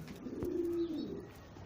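A pigeon gives a soft, low coo once or twice, close by, over faint background noise.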